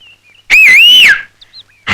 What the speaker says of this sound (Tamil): விசில் அடிக்கணும்னா